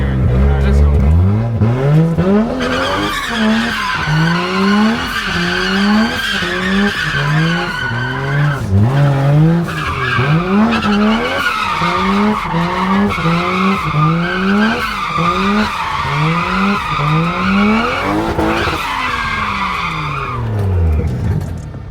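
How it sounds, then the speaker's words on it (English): A drifting car slides through a long run of tire squeals and skids, the engine revving and rising and falling with each throttle push. The sound is loud and close and continues without a break. "So it's a balance of throttle and feeling the car moving, feeling the car sliding."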